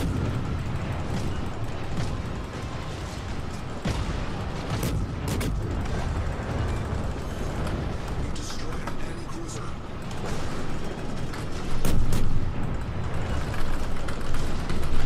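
Naval battle in World of Warships: a continuous rumble of ship gunfire and explosions with a few sharp bursts, swelling louder near the end, under occasional talk.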